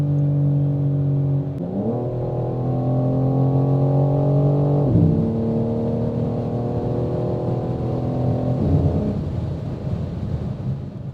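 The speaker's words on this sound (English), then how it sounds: "That beautiful mint paint, the M performance parts, that Akrapovic exhaust." A 510 hp BMW M4 G82 Competition with its S58 engine and Akrapovic exhaust accelerates hard on the Autobahn, the loud droning engine note climbing through three gear changes over about eleven seconds.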